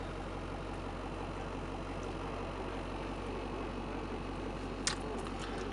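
A 1984 BlueBird Wanderlodge motorhome engine idling smoothly, a steady low rumble heard alone and close, with one brief click near the end.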